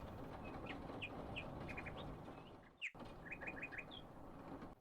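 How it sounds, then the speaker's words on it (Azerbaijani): Birdsong added as a background effect, with short, clear chirps and whistled trills repeating in quick bursts over a steady low hush, faint overall, with a brief break midway. "Quş səsləri falan qoydum ki,"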